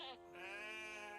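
A single sheep lets out one long, wavering bleat, close and clear.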